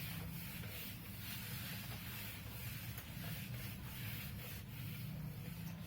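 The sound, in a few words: rubbing chalk off a board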